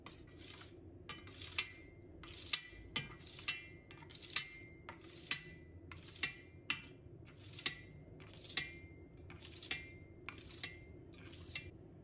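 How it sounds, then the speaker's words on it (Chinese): A small knife cuts through homemade liangfen jelly in a quiet kitchen, giving a steady series of about a dozen crisp taps, one every second or so. "用小刀把它切成自己喜欢的形状"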